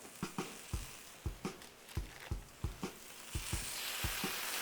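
Smash burger patties sizzle on a hot griddle with a soft, steady frying hiss, broken by a regular series of low thumps and scrapes from the spatula, close and fairly quiet.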